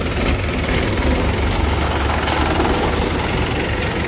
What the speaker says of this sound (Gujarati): એક પછી એક ટ્રેક્ટર ભરવા જાય છે।